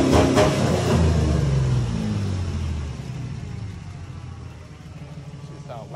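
A Mustang engine idles with a deep, steady low rumble, louder at first and then settling to a quieter, even idle, with a person talking over it.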